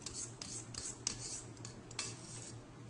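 A spatula scrapes cookie dough of flour, salt and baking soda around a mixing bowl, giving soft repeated rasping strokes with a few sharper scrapes, quiet and close with no talk.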